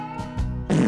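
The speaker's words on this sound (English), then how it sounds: "I'm so ashamed of fart." Cartoon baby dinosaur breaking wind: a couple of short, buzzy comic fart noises, then a louder, broader raspy burst at the end, close and alone with no talk.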